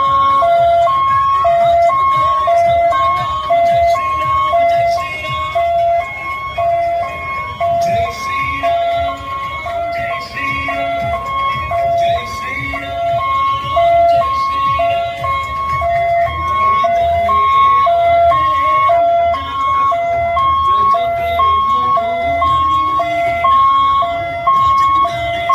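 Ambulance siren wailing in a steady repeating two-tone pattern on a street, continuous and fairly close, with traffic rumble and faint voices underneath.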